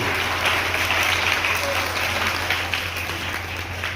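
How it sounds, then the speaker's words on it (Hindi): Children and an audience at a school enrollment festival applaud together in a steady, dense clatter of many hands, under a constant low electrical hum. "आप अपने लिए एक ताली से स्वागत अभिनंदन करेंगे, जोरदार ताली करेंगे।"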